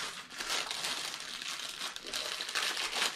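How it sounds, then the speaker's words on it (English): Paper crinkles loudly and continuously while a subscription box is unboxed, a dense, close rustling and crumpling that continues throughout with no voices. "That was a lot of crinkling."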